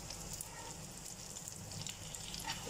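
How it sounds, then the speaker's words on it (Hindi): Bottle gourd shami kebabs sizzling in a pan over low heat, a steady soft crackle and hiss with faint pops, quiet and continuous without talk. "कबाब एक साइड से हो गए हैं हमारे फ्राई।"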